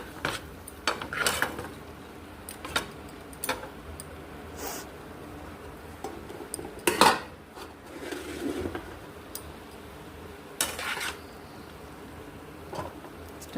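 A metal pot of thor (banana stem) curry with ghee is covered and stirred in a village kitchen, giving scattered soft clinks, scrapes and lid knocks of moderate loudness over quiet background hiss.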